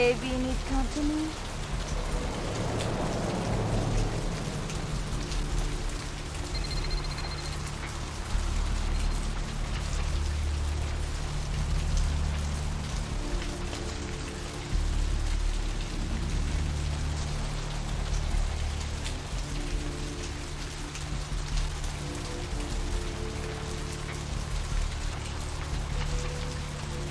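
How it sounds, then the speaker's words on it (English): Continuous rainfall in the video game Vampire: The Masquerade – Bloodlines hisses and patters steadily throughout, a dense wash of drops with a low rumbling undertone and no voices. "This rain is the pungent sewage of hell, seeping into the cracks of these fuel strips."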